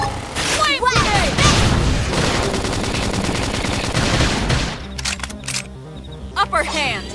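Sustained automatic gunfire from a shooter video game, loud rapid bursts that run for several seconds before breaking into scattered shots, with a voice talking over the action.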